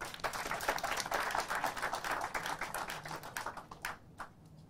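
Crowd applause at a public gathering in Bangladesh, a burst of many claps that runs strong, thins into scattered separate claps, and dies out after about four seconds.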